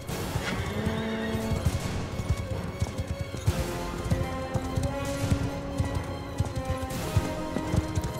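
Horses neigh and whinny amid a busy siege battle in Mount and Blade 2 Bannerlord, with clip-clop hooves, clashing impacts and steady loud combat noise throughout.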